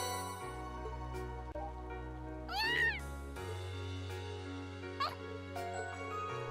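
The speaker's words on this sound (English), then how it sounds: "How's that cat managed to get back in here?" A single short cat meow rises in the middle, over steady game music, in the video game The Legend of Heroes: Trails of Cold Steel, with a faint second mew later on.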